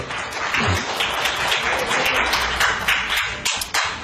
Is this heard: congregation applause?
yes